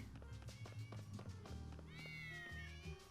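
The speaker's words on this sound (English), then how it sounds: "Oh my god, there's cats everywhere." Cats meow in the Tales of Xillia video game on the Torbellin High Roads near Tri-Ocles, short cries rising over busy game music and effects, with a brief higher call near the end.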